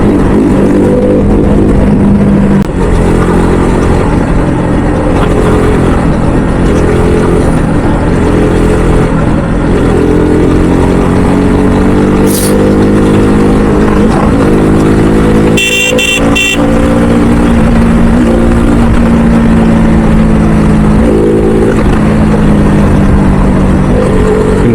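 A motorcycle engine on a night ride along the Manali to Delhi route, running unevenly and sputtering from clogged petrol, with a steady loud drone, brief horn-like tones midway, and occasional voices in the background.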